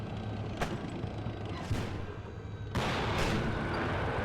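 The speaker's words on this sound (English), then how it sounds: "the Chinese tank is engaging the US tank" Tank cannons firing in the modern war strategy game WARNO, a Chinese tank engaging a US tank: several sharp booming shots, one near 0.6 s and one near 1.7 s, then a heavier blast with sustained rumble over steady battle noise.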